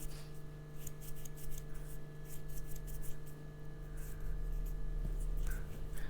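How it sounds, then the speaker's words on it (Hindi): Fingers of both hands rub together in a steady, continuous dry friction, faint and close, over a constant low hum with no talking. "फिर आप सभी उंगली को अच्छी तरह से रब करेंगे, दोनों हाथों की।"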